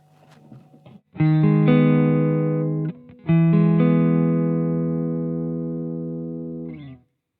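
A Fender Stratocaster electric guitar on its neck position single-coil pickup plays sustained clean chords, two long ringing strums separated by a short break, bright and close with no voices.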